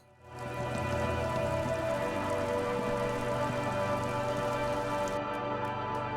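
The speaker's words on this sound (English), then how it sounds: "let's get out of the rain." Steady rain pours in the video game Disco Elysium, a dense, even hiss of drops on surfaces that swells in and holds throughout, with faint ticks near the end and no talk.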